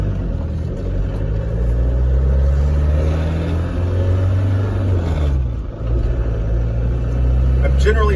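A 1990 Range Rover Classic pulling away in first gear, its engine a steady low rumble inside the cabin with a slight dip near the end, while someone talks over it throughout.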